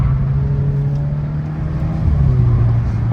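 A Stage 1 flexfuel tuned car with a Gen4 engine accelerating hard on a road, a loud steady engine drone heard from inside, rising in pitch and strength toward the end.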